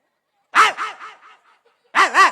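A dog from Rajkot, in a comedy skit, gives two quick barks, a trailing whimper, then two more sharp barks after a short pause. The barks are close and fairly loud, with no talk over them.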